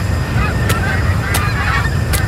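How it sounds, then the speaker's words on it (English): A flock of birds honks loudly as a plane flies through them in a video game, with goose-like honks over a constant roar and a few sharp bursts. "There was a whole flock of birds."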